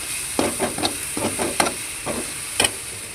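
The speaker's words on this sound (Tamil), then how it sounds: "சிறிதளவு மிளகாய்த்தூள், போட்டு நம்ம எண்ணெயில் ஃப்ரை பண்ணிக்கணும்" Chili powder frying in hot oil with a steady sizzle, broken by bursts of spoon scraping and stirring against the pan, close and with no voices.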